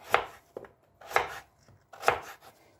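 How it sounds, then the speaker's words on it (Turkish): Three sharp knife chops through beetroot on a cutting board, spaced about a second apart, each with a quick lighter tap after it, close and clear. "Bu şekilde doğrayalım."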